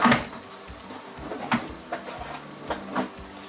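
Chicken pieces in a curry pan are stirred with a utensil that scrapes and clinks against the metal every second or so, over a faint, steady frying sizzle.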